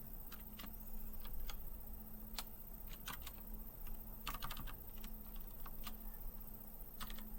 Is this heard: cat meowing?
no